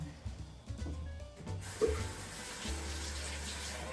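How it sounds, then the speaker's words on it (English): Water from a tap runs onto a cleaning sponge, starting after a few soft handling clicks and then turning into a steady, close splashing stream that continues to the end. "I'm going to moisten the sponge"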